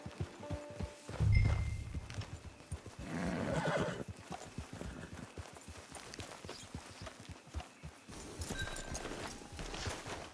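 A horse in the video game Red Dead Redemption 2, with loud clip-clopping hooves and a clear neigh early on, then steady hoofbeats as it moves at pace with no talk.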